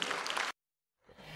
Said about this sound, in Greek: Χειροκρότημα στο Θάνο Τζάνι!